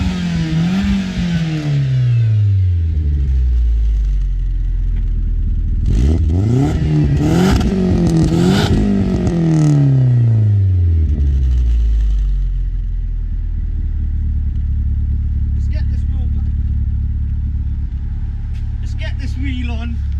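A rusty old car's engine running after a fuel leak repair, revving up and down in several loud, close surges with rising and falling pitch, then settling to a rough idle with some clatter.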